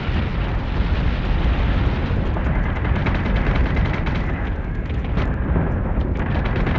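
Heavy, sustained cannon fire and rumbling explosions from capital ships in the space battle game Battlestar Galactica Deadlock, a loud dense barrage with sharp crackling shots over a continuous roar.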